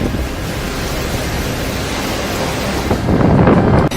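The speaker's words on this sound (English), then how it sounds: "More wind and rain." A wind and rain storm roars as continuous broadband noise, steady and loud, swelling stronger near the end with gusty buffeting.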